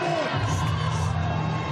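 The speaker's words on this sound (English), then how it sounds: "You can hear his brother Luke in the back cheering him on." Crowd noise with cheering and shouts of encouragement during a heavy deadlift at a strongman competition, steady and loud throughout, with a low sustained rumble underneath.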